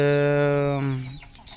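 On a chicken farm, a rooster's close, loud crow holds a long drawn-out note, then drops and trails off into faint farmyard noise.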